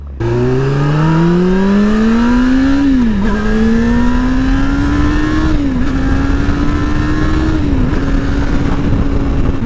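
A salvage motorcycle bought at a Copart auction after being totaled revs and accelerates up close, its loud engine note climbing steadily and dipping briefly at three gear shifts before holding a strong, even drone.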